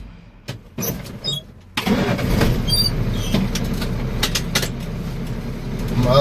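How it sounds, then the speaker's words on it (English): A semi truck's engine is started during a pre-trip air brake check: a few clicks and thumps, then the diesel catches and settles into a steady close rumble. "safe start the truck"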